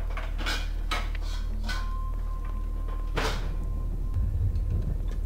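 An animatronic in a Garry's Mod FNAF game bangs its feet on a metal pot. Several clanging metallic hits sound over a steady low hum, with a loud clang midway and a rattling tail.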